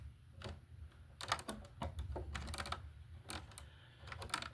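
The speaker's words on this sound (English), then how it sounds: "I'll cut this wire off here" Sharp snips and clicks of wire being cut while wiring a First Alert BRK smoke detector in an electrical box: several close, irregular crisp snaps over a low steady hum, with no talking.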